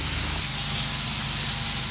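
Compressed air forced through a lawn sprinkler spray zone during winterizing blowout gives a steady, loud hiss and spray with no break, alone.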